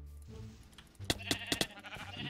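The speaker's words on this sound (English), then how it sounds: "I'm gonna kill some sheep here" Sheep in the Minecraft video game bleat in a quick run of several short, sharp calls at close range, heard alone over a quiet background.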